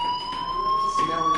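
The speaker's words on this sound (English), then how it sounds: "Hey, do you hear that fire alarm?" A fire alarm rings inside the Life is Strange video game, a steady high electronic tone held throughout, loud and close, with a voice talking faintly underneath.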